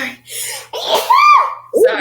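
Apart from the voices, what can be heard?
sneeze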